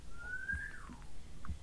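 An African grey parrot gives a single clear, close whistle that glides upward and then drops, followed by a short faint chirp against low background noise.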